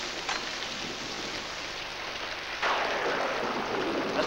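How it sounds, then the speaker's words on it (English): Heavy rain pours down outside in a 1976 TV movie scene, a dense, steady hiss that swells louder partway through over a low rumble, with no one speaking. "Mr. Carroll, it is raining pretty heavily outside."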